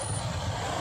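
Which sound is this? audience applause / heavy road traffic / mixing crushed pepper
heavy road traffic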